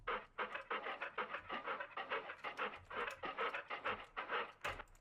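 Two dogs panting in quick overlapping rhythms, close and steady, with no talking throughout.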